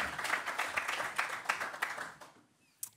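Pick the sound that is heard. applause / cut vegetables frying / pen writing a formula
applause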